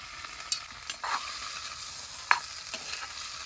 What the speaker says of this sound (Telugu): వంకాయలు అయితే మంచిగా ఫ్రై చేసుకున్నాం ఫస్ట్ ఆయిల్లోనైతే.